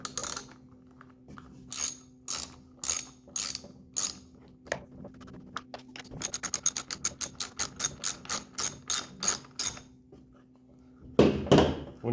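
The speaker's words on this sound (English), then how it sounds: "taking the nuts off of the bolts that hold the blade on" A ratchet wrench backs the nuts off the bar bolts of a Husqvarna chainsaw. Short bursts of crisp clicking repeat up close, with a fast, dense run of clicks in the middle and a clatter at the end.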